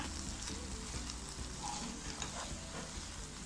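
Eggs frying in a pan and being stirred into a scramble while egg biryani is made, with a dense close sizzle and quick stirring scrapes, steady throughout.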